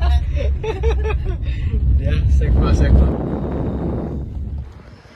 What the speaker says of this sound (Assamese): বেয়া ৰাস্তাত ভাই ধুমাই চলাই ফুৰিছে।